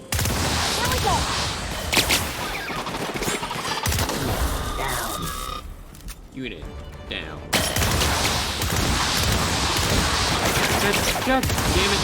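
A laser gun fires repeatedly during combat in the video game The Outer Worlds, with rapid bursts of zapping shots and chaotic battle noise, dense and loud throughout, briefly easing in the middle before resuming, with a spoken in-game line.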